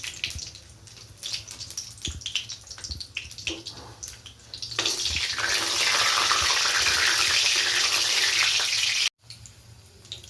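Panch phoron, dried chilli and bay leaf fry in hot oil for a chickpea curry. Light crackles are followed by a loud, sustained sizzle that cuts off abruptly near the end. No one talks.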